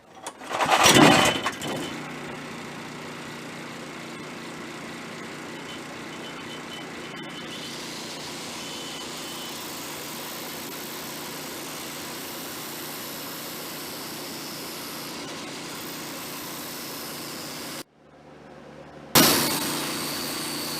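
An angle grinder with a 60 to 80 grit disc grinds a tapered generator engine crankshaft down to straight, in a loud, steady, continuous whine lasting about sixteen seconds. It cuts out briefly, then starts again.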